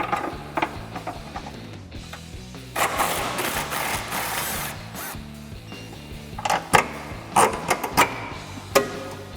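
A 3/8-inch impact gun with a 15 mm socket backs out a sway bar link bolt on a 2011-2014 Mustang during a lowering spring install, with several short bursts, a longer rattling run in the middle, and metallic clatter.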